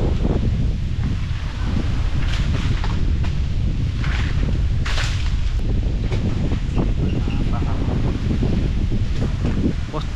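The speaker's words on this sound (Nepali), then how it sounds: "यस्तो हावा चले है यसलाई उडाउनु त उडाउ है" Strong outdoor wind gusting loudly and steadily into the microphone during coconut picking in the Philippines, with rustling leaves; no talking.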